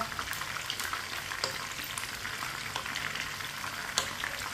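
Chicken fries on one side in a pan with a steady, dense sizzle and scattered small pops, close and alone.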